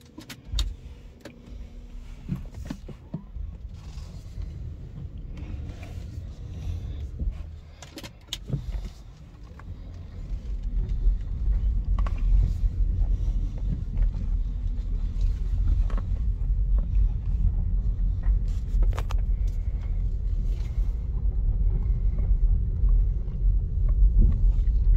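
Inside a 2019 BMW 330e M Sport plug-in hybrid with automatic gearbox, started and driven in electric mode: a quiet cabin with faint clicks gives way to steady road rumble and wind noise that swell after about ten seconds and hold, with no talking.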